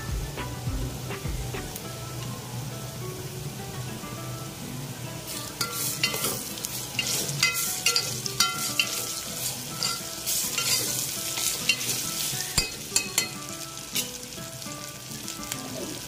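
Ginger garlic paste sizzles and fries in a pan for tomato pulao, a steady crackle with sharp bursts of stirring in the middle, close and alone with no talk.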